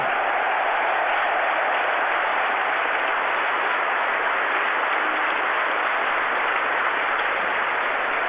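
Cricket crowd applauding Graham Gooch's century at the 1987 World Cup, a dense, steady wash of clapping that holds evenly at moderate volume throughout with no voices over it.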